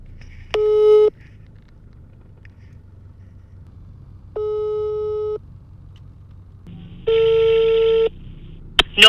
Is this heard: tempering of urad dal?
no